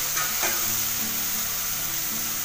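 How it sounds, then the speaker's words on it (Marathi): Onion and tomato masala sizzles continuously in oil in a pan, a steady loud hiss with soft scraping as it is stirred, no voices over it. "आता हे चांगलं असं तेल सुटेपर्यंत ना मस्त असं आपण मिक्स करून घेऊया."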